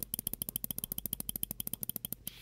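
Left button of a WLMouse Beast X Max gaming mouse clicked about twenty times in quick, even succession, each click a crisp, close, sharp tick with brief quiet between.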